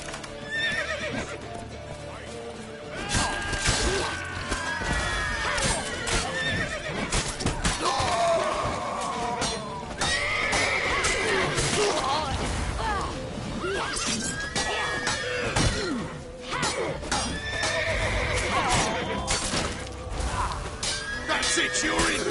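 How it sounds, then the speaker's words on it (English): Horses neigh and gallop in the video game The Witcher 3, loud whinnies rising over rapid, continuous hoofbeats, with shouting voices and crashing impacts scattered through the chase. "horse!"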